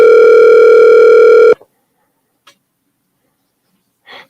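A telephone line sounds on a call-in radio show as a loud, steady electronic tone for about a second and a half, then cuts off to near silence broken by a few faint clicks.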